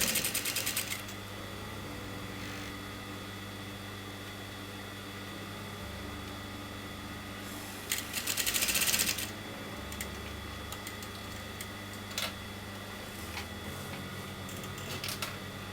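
A sewing machine on a kameez neck seam is mostly quiet, with a faint rapid hum, a short louder burst of stitching midway and a few soft clicks.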